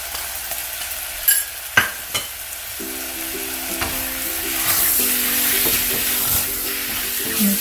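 Turmeric powder and salt stirred into a momo soup pot over a medium flame, with soft scraping and sizzling under a low steady hum, a few sharp clinks of the spoon near the start.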